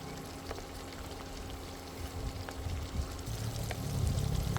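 Water drained from a pot of cooked shark meat pours and splashes steadily, getting louder toward the end, with faint clinks of the pot in the background.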